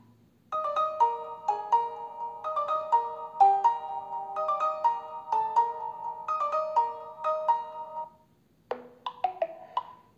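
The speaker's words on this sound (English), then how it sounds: "And this is the inbuilt ringtones." A OnePlus phone's built-in ringtone plays a bright, repeating melodic chime pattern, clear and close, stopping briefly before restarting with a short burst of notes at the end.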